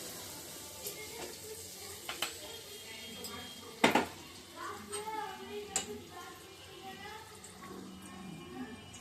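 Malpua pitha fries in hot oil with a faint, continuous sizzle, broken by a few small clicks and one sharper clatter partway through.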